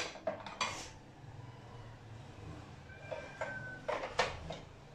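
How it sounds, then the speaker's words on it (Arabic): A metal spoon scoops cornstarch from a container, making a few light clinks and scrapes against the vessel, with quiet pauses between the clatters. "فانا هاخد دلوقتي معلقه مليانه من النشا، مليانه قوي"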